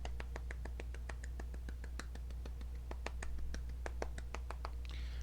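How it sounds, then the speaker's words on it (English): A quiet, sparse golf clap, a few slow, evenly spaced single hand claps, close and soft, repeating steadily over a low constant hum. "Round of applause, golf clap"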